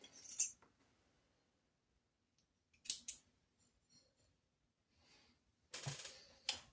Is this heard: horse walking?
no